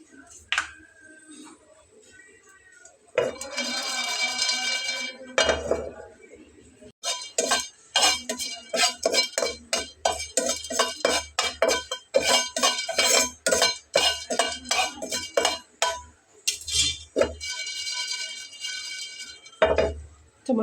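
Cardamom, cloves and mace dry-roasting on a dry tawa set in a kadai, with repeated metallic clinks and scrapes of a spoon against the pan coming in bursts, fairly close, with brief pauses between.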